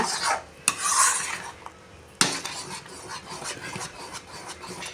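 Halwa being stirred in a heavy-bottomed kadai, with a utensil scraping and rasping against the metal in a continuous rhythm, punctuated by a couple of sharper knocks near the start and midway.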